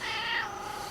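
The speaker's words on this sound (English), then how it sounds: "She's a good cat." A single short meow from a cat that lives outdoors, close and moderately loud, rising then trailing off, with no other sounds around it.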